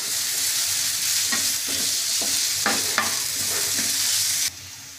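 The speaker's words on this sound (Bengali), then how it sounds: "এটাকে আমি ভালো করে মিশিয়ে নিচ্ছি" Garlic and ginger paste sizzles loudly in a hot pan while a spoon stirs it in repeated scraping strokes. The sound is close and continuous, then cuts off abruptly near the end.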